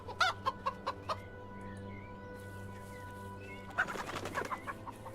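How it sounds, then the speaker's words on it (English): A chicken in the video game HumanitZ clucks in two bursts of quick, nearby clucks separated by a quieter stretch, all over a steady low background hum. "Come here, little chicken."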